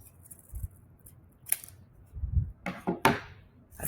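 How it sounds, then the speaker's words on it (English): Scissors snip through a folded paper square during an art project, giving a few short, crisp cuts with quiet gaps between them, close by and moderately loud. "Got a nice crease going there, and I can cut it down to size."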